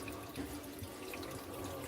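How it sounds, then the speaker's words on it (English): Sink faucet running beside a newly installed Samsung 24-inch top-control built-in dishwasher: a quiet, steady hiss of flowing water close by, continuous and unbroken, with no talking. "I'm going to turn on the water on the sink"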